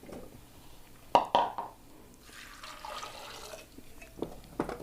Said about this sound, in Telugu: తగినన్ని నీళ్ళు పోసేసుకొని